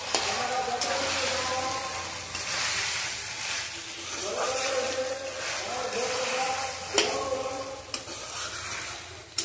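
A spoon stirring mutton curry with new potatoes in a pot, scraping and sizzling close by in uneven strokes, with a few louder knocks against the pot.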